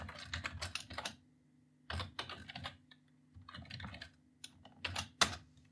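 Typing on a computer keyboard to enter text into a spreadsheet cell, with close, fast bursts of key clicks separated by short pauses.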